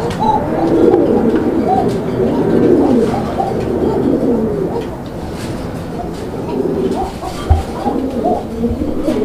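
A flock of Indian Bombay pigeons coos steadily and densely, many soft, overlapping calls close by with no pauses for the full stretch.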